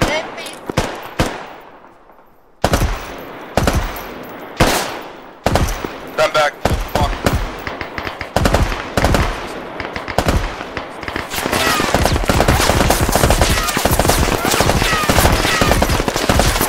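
Gunfire in the military game Arma 3: sharp single shots and short bursts, then sustained heavy automatic fire, loud and close with distant echoes and brief voices over it.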